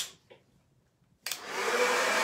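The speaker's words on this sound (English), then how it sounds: "just put your blow dryer on cool," A blow dryer on the cool setting switches on with a click and runs as a steady loud whoosh while drying a freshly washed stencil, after a brief quiet start.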